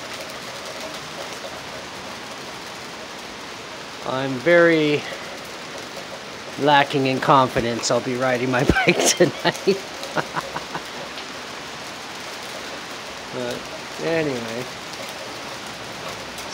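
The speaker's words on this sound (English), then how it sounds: "it's a piss storm of rain" Heavy rain pours down in a steady, close, broadband hiss throughout, while someone talks intermittently over it.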